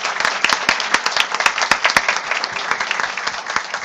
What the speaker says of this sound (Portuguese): Queria pedir uma salva de palmas aí para os nossos 3 palestrantes.